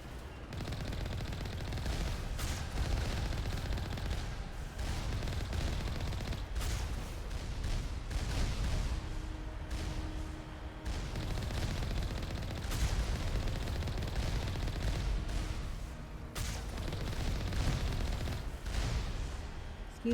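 Turret gunfire in the original Mass Effect video game, continuous rapid bursts of shots with brief pauses, loud and sustained throughout with no talking.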